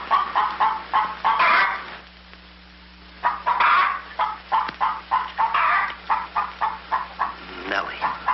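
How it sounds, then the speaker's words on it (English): Hen clucking in a film scene, a run of short rhythmic clucks close up that pause briefly and then resume. "Lay, hen, lay."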